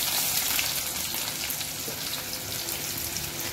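Mustard seeds, cumin and chopped onion frying in hot oil in a home kitchen, a steady close sizzle with scattered crackles and spatters running throughout.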